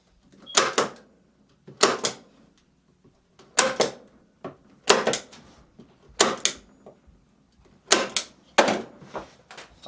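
A staple gun fires roofing material onto a beehive roof in about seven sharp, spaced clacks, each a crisp snap with a short rattle, close and fairly loud with quiet gaps between.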